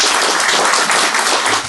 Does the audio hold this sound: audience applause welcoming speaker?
yes